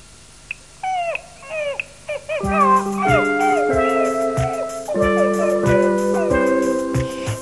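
A dog yips and howls in a run of short, sliding whines, then musical accompaniment comes in beneath further howl-like calls.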